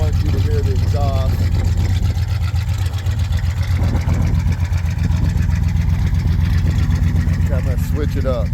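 A car's exhaust burbles at a steady low idle, loud and close, with a person talking over it for much of the time.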